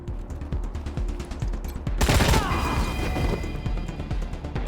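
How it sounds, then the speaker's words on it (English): An assault rifle firing in the video game Wasteland 3, a rapid stream of shots with a sharp crashing burst partway through, up close and loud, with a voice faint beneath. "looks like an assault rifle, right?"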